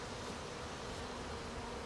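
A dense, steady buzzing of many honey bees at a hive, a continuous low hum with no pauses, close by and fairly quiet.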